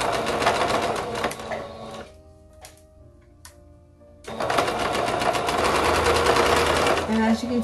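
A sewing machine stitches a binding strip around the curve of a baby romper in a rapid, steady run, pauses for a couple of seconds of near quiet with faint clicks, then resumes stitching, with someone talking over it.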